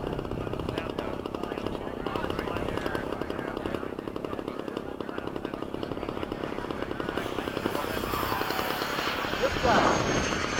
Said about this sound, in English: Low pass from the left. Someone coming to land.